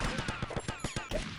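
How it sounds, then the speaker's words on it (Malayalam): Rapid gunfire bursts in GTA Vice City, a fast string of sharp shots at a steady rhythm, fairly faint in the mix. "എനിക്കിങ്ങനെ കറങ്ങി നിന്ന് വെടി വെക്കാൻ പറ്റും"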